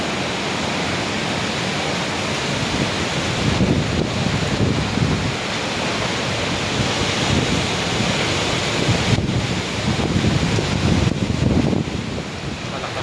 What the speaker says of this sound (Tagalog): Napakalakas ng hangin mga lodi ko.